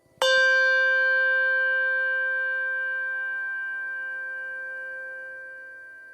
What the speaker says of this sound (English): This is a Schulmerich bell, the one with the tang.